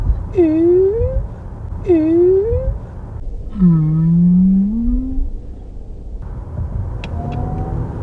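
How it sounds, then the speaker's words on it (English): A synthetic rising whine from a 2023 Lexus RZ450e electric car sweeps upward three times as it accelerates, over road rumble and some talking. "It makes a little cool noise as well when you accelerate on this."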